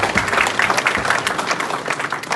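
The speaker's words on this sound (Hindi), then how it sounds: "इनके ताली बजा दो एक बार जोर से।" Audience at a gathering of Indians in Canada breaks into applause, a dense, steady clapping that fills the short stretch at moderate loudness with no voices over it.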